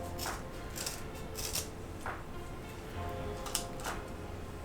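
Scissors trim craft material to size for a hanging fairy garden, a series of crisp snips spaced about half a second to a second apart, close and moderately loud over steady background hiss.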